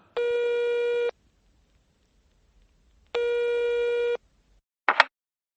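A telephone rings in a radio drama: two long, loud electronic ring bursts about two seconds apart, followed by a short click as the receiver is picked up, with silence between.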